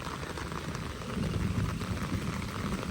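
Heavy rain pours steadily for about an hour outside a house beside a large pond, a continuous broadband hiss of drops with no pauses and no voices.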